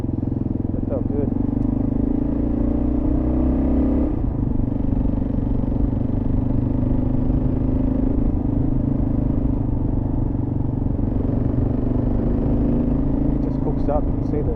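A KLR650 or DR650 dual-sport motorcycle runs steadily over gravel, its mid-pitched engine droning loud and continuous alongside crunching, clattering tyre noise, with a voice talking over it.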